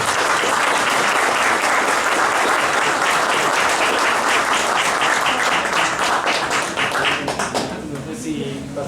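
Loud, sustained applause from a conference audience welcoming a guest onto the stage, dense clapping that thins slightly near the end.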